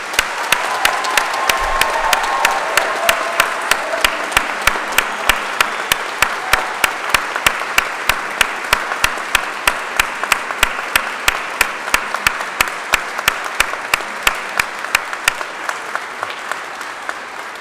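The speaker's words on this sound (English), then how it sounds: "I'd like everyone to join me in applauding them and their achievements" A large audience applauds graduates at a Selby College graduation ceremony, loud dense clapping with sharp rhythmic claps standing out near the microphone, continuing steadily for over fifteen seconds with a brief murmur of voices early on.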